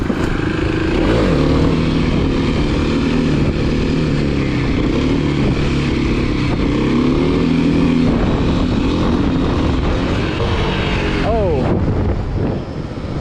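A Kawasaki KLX300 dirt bike rides around a landfill doing wheelies. Its engine drones loud and near throughout, with a sharp rising rev near the end.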